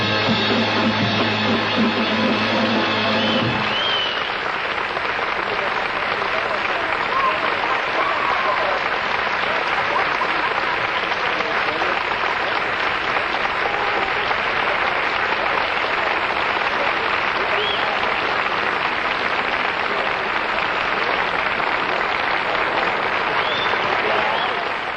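An audience applauds at a performance, dense sustained clapping filling the whole stretch, loud and steady, with a brief tonal musical sound at the very start.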